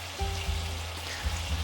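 Thick sauce bubbling and boiling hard in a pan while potatoes and mushroom are stir-fried and pressed, giving repeated low blurps and pops over a steady sizzling hiss, close and alone.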